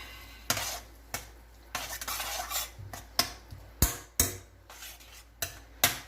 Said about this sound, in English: I'll put this up a little higher. Let that really saute.